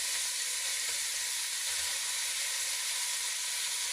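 Ground beef sizzles loudly in hot crackling butter in a saucepan, a dense, continuous bright frying hiss with no voices over it.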